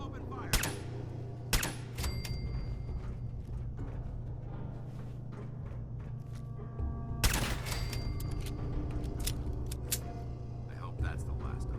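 Gunfire in the Fallout 4 video game: two sharp bursts of shots, one early and one near the middle, plus scattered single cracks over a steady low game hum, with voices speaking underneath.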